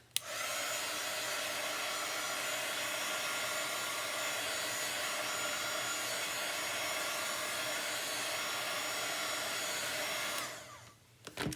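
Hair dryer drying Couture Teal Chalkology chalk paste over whitewash, a steady close whir that runs unbroken for about ten seconds before switching off.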